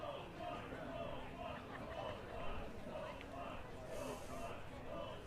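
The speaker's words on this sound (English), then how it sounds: "So crowd getting a little active" Crowd noise at a baseball stadium during a pre-season game, a steady murmur of chatter and cheering spread evenly throughout, with a commentator's voice talking over it.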